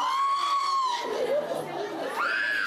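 Crowd at Yamé Roxy screaming and crying out in distress during a surprise police raid, a high wailing cry over loud, dense shouting and chatter.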